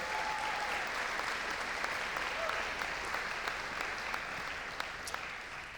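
Audience applause for Stephen Jeffs, chair of the exec, at a Thanksgiving 2024 community gathering: a steady, even wash of many hands clapping, fairly soft and distant, sustained throughout with no voices on top.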